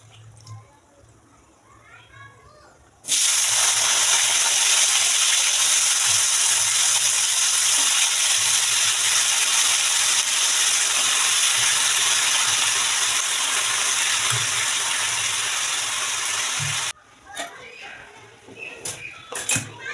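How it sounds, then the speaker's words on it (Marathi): Chopped vegetables fry in hot oil in a home kitchen, a loud, steady sizzle that starts abruptly after a few quiet seconds, holds evenly, then cuts off near the end, leaving soft clatter. "सगळे व्हेजिटेबल्स मी टाकलेले आहेत त्याच्यात थोडं तेलावरती फ्राय करून घ्यायचे"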